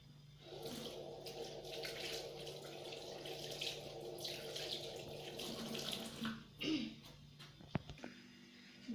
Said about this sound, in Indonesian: Kita cuci tangan menggunakan sabun dan 6 langkah.